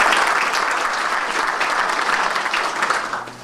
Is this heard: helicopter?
no